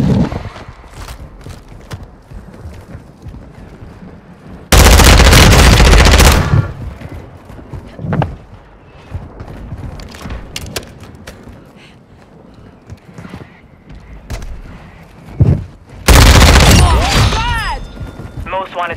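Bursts of automatic gunfire in a military shooter video game, two loud sustained volleys and scattered single shots, with game radio chatter and effects running in between.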